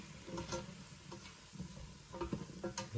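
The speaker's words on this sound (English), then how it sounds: "And put that in there and stir it around." Flour, thyme, rosemary and pepper being stirred into a chicken stew in a pot, with soft scraping strokes over a low sizzle, quiet and close with no talking.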